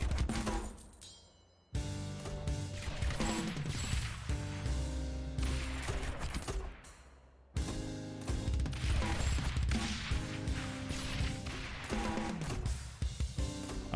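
Mortars in the tower defense game Rogue Tower fire in dense, crackling volleys of rapid explosive bursts, loud and continuous, broken by two brief pauses before the barrage resumes.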